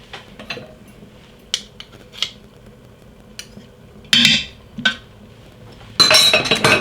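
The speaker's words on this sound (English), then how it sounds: "Give that a good stir. You want to get everything mixed around." Beef tips and crushed garlic get stirred in a pot: sparse, close metallic clinks and scrapes of a utensil against the pot, with a few louder scraping bursts near the end.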